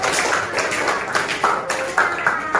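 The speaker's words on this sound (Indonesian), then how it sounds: "Beri aplaus dulu, Nak. Ayo, beri aplaus dulu." Classroom applause for a student group, a moderate patter of many hands clapping in an uneven rhythm, with some voices mixed in underneath.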